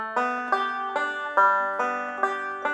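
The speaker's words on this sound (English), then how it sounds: "So the second measure sounds like this." Banjo picking the second measure of a song, a bright, rolling sequence of plucked notes with crisp attacks in a steady pattern, played close and alone.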